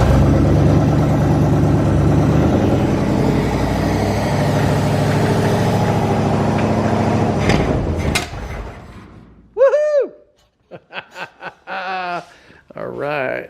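Engine of a one-off steel sports car built around 1956, a barn-find race car on gravity-fed fuel, runs loud and steady at close range, then sputters and cuts out, followed by people laughing and chuckling.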